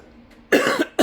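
Two sharp, close coughs from one person, a longer harsh burst followed by a short second cough, alone in an otherwise quiet room.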